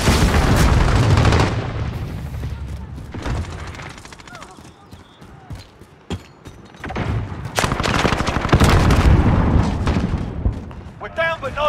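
Multiplayer gunfire in Call of Duty: Modern Warfare (2019): loud bursts of automatic fire and booming blasts come in dense waves, separated by quieter gaps, with in-game voice callouts over the combat.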